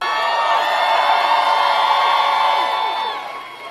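Rally crowd cheering, a steady wall of many voices whooping and shouting together that carries on loudly and then fades toward the end.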